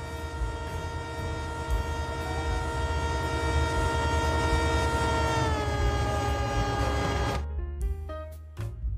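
A train engine rumbles past with a loud sustained horn blast that bends down in pitch and then cuts off, followed by clattering.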